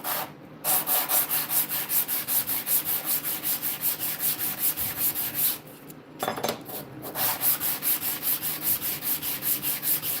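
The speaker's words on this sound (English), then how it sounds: "a light sanding to knock down any kind of anything that's kind of sticking up" Light hand sanding with 400 grit sandpaper on aluminum, a steady rhythmic rubbing of close back-and-forth strokes that runs continuously, pausing briefly twice.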